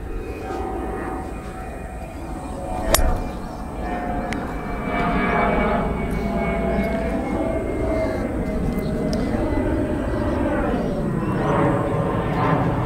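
An airplane passes overhead during golf practice on tight lies, its engine drone building into a steady roar with a shifting, sweeping tone, and a sharp club strike briefly cuts through early on.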